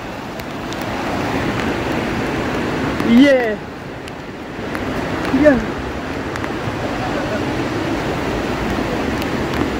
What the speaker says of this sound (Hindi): ये पानी का बहाव थोड़ा ज्यादा ही है